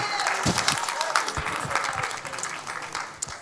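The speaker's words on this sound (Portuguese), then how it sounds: "Aplauda Jesus e pode se assentar" A church congregation claps steadily in a sustained round of applause, fading slightly toward the end, with some voices mixed in.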